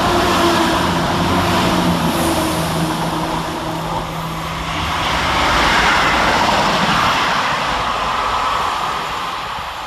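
Class 174 and Class 158 diesel trains passing through Edinburgh Gateway station, a broad rushing roar with engine drone that swells and fades as the units go by, heard steadily from the platform.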